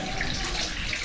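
Water runs steadily from a tap in a shared comfort room at a camping site, a continuous close hiss with no talking over it.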